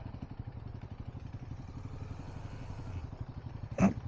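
A motorcycle idles with a rapid, even low putter while bikes are parked after a ride on a Munnar ghat road. It is moderately close, with a short clatter near the end.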